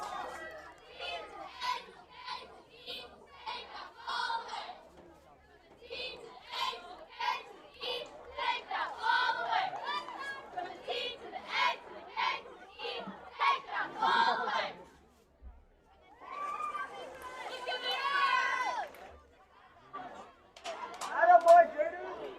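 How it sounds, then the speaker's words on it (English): Middle school cheerleaders at an 8th grade football game chant a rhythmic "take the ball away" cheer in short, punchy bursts, their young voices close and lively, with a short pause near the middle. "after the cheerleaders finish their take the ball away cheer"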